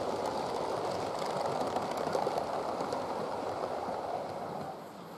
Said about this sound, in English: An A3 races south on an up express